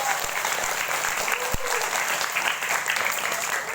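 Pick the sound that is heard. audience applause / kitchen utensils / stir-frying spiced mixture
audience applause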